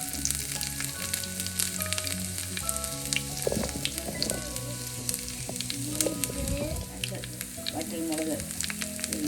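Mustard seeds and sliced shallot fry in hot coconut oil, giving a loud, constant crackling sizzle with scattered pops and light stirring.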